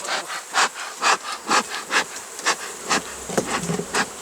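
Honey bees swarm around an open hive during beekeeping work, a close, steady buzzing that swells in regular pulses about twice a second, with no talk.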